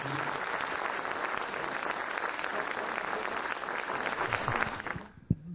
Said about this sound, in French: on va vous applaudir et puis on va laisser la parole au public.